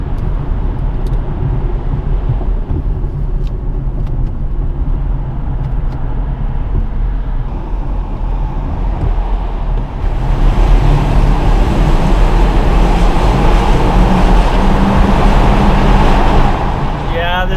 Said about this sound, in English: This car needs an exhaust really badly.